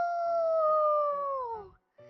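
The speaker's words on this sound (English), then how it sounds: "A coyote howled in the distance." A coyote howls once in the distance, a long sustained wailing note that slowly slides downward before cutting off, followed by a brief pause and faint background sound.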